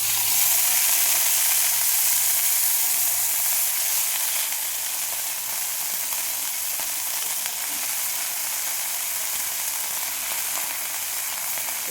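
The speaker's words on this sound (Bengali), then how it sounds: "আমি সজনা ফুল চচ্চড়ি করছি" Drumstick flowers frying in a pan for chorchori with turmeric, salt and green chilli, a steady, even close sizzle that runs unbroken and alone.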